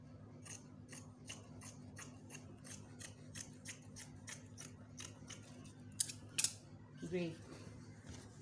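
Scissors cutting fabric for a palazzo jumpsuit, a regular series of crisp close snips over a low steady hum, followed by a couple of louder metallic clicks and a brief squeak near the end.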